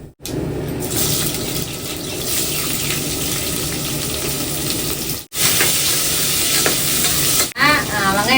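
Green chillies and onions sauté for bucket biryani, giving a loud, close, continuous sizzle with busy stirring scrapes and two short breaks in the sound.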